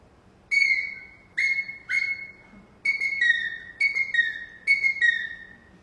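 A person whistles an imitation of an eagle call, a series of sharp, high, descending whistled cries in clustered bursts, loud and close with no talk over them.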